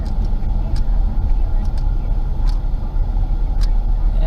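Ford Mustang rental car running with a loud, steady engine rumble heard from inside, a dense low drone that holds at one level without clear revving peaks.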